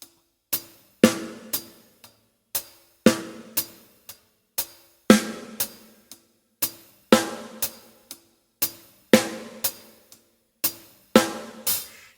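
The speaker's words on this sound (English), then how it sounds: "then bring in the snare drum" A drum kit plays an offbeat groove, crisp hi-hat strikes on the offbeats with a sharp snare crack recurring through the pattern, steady and close for about twelve seconds with no voices.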